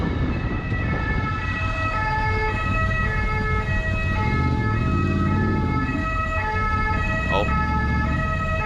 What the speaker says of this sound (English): Look at that ambulance right there.